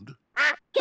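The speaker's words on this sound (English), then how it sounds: "Daddy Pig, did you know you've got a duck on your head?" A cartoon duck gives a short, nasal quack, then a second clipped quack, both brief and close, following a soft low sound at the start.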